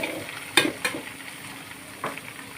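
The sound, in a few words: semai vermicelli frying with nuts and raisins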